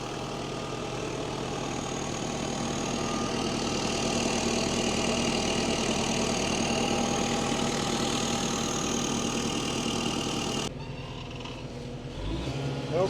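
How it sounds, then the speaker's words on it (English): A tractor engine runs steadily from inside the cab, a loud continuous low rumble with a knocking idle character for about ten seconds, then dropping and changing near the end as something shifts. "Okay everyone, we're in the tractor."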